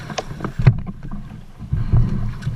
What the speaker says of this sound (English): pay attention to the scraping sounds that the keel is scraping on